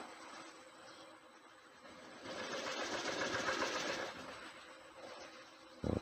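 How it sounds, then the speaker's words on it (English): Steady whirring hum of a wood lathe buffing a tiger wood platter, rising louder and broader through the middle before easing back, with a brief sharp knock right at the end. "Just finishing buffing the piece."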